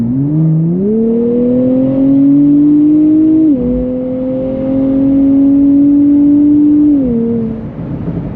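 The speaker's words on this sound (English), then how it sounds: "That V6, man, I really love a good Nissan V6 high-pitched scream." A 2024 Nissan Z NISMO V6 accelerating in Sport Plus with an automatic transmission, its loud, close engine note climbing steadily in pitch through two upshifts into a high-pitched scream.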